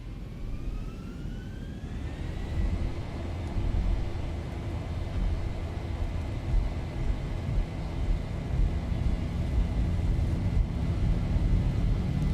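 Airliner jet engines in X-Plane 12 spool up from idle to takeoff thrust, a rising whine climbing over the first two seconds, then settling into a steady, loud roar with a heavy low rumble that continues without talk.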